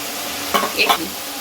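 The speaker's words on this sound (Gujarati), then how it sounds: "હવે આપણે ડુંગળી, લસણ, મરચાંની પેસ્ટ નાખશું, આદુની। સારી રીતે મિક્સ કરી લઈશું।" Onion, garlic, chilli and ginger paste frying in oil for Kathiyawadi dum aloo, a close, steady sizzle with a couple of quick stirring scrapes in the middle.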